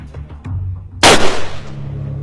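A single loud gunshot cracks out close by during street fighting against ISIS in Marawi, sharp and booming with a ringing tail, set against a low steady hum of background noise.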